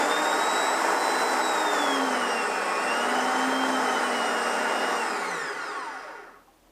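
Bosch PBD 40 drill press running, a loud steady motor whir with pitch shifts as speed changes, then winding down and fading near the end, heard close up without talk.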